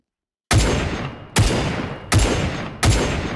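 A quad barrel autocannon firing in ArmA 3, four loud, evenly spaced heavy shots after a moment of silence, each one booming and then trailing off in a long decay.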